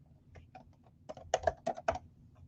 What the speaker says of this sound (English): and let's type in bride again.